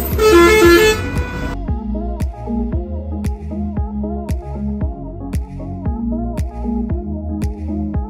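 Road traffic on a drive from Uttarakhand toward Uttar Pradesh, with repeated sharp horn toots from vehicles over a steady engine rumble, several short honks spaced through the scene after a brief loud burst at the start.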